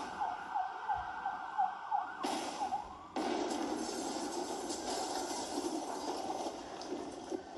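A faint, distant siren wails in a repeating rise-and-fall pattern, then gives way to a steady hiss and low rumble of background noise.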